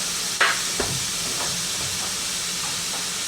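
Ground beef sizzling as it browns in a pan for beef flautas: a steady, soft hiss of frying with a couple of brief clicks and scrapes near the start, close and alone without talk.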